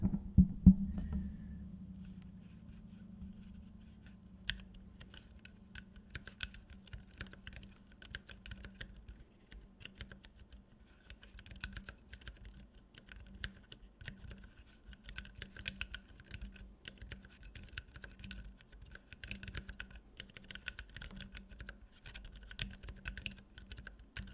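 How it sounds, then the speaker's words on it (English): Steady typing on a keyboard fitted with MX Silent switches, a soft, muted patter of keystrokes running continuously and close up with no talking. "I'll let you guys hear what the XYZ workboard sounds like. with the silent key set. MX silent keys."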